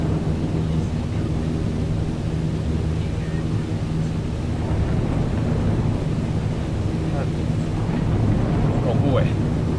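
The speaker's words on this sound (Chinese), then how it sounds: "你看在一片暴风雨里面。" A Cessna 152 flies through a thunderstorm in Microsoft Flight Simulator on an approach to Lanyu airport, with a steady low engine drone, rushing wind and rumbling storm noise, while people talk over it.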